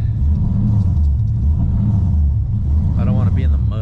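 An LS-swapped Nissan 240SX (S13) engine idling high, a loud steady low rumble throughout, with a voice briefly heard over it near the end.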